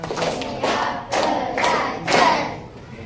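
A classroom group claps in a counted pattern, five loud bursts of hand claps arriving at a steady beat, close and energetic with faint voices underneath.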